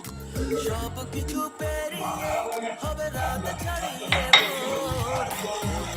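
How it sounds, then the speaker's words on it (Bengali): Oil with fenugreek and black cumin seeds boils in a pan while a utensil stirs it carefully. Close metallic scrapes and clinks repeat against the pan over a low bubbling rumble. "এখানে ফোটাচ্ছি এমন করে নাড়তে হবে একটু সাবধানে"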